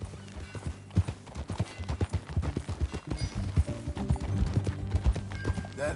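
Horse hooves clip-clop at a steady riding pace in the Western video game Red Dead Redemption 2, loud and close, with light rhythmic thuds over low ambient game sound.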